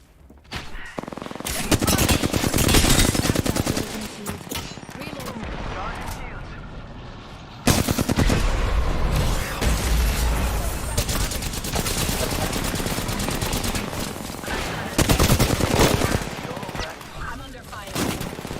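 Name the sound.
gunfire in the video game Apex Legends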